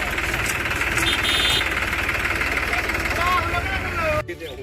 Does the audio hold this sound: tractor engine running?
yes